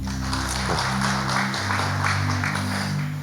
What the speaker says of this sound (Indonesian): Yang setuju boleh tepuk tangan dulu dong.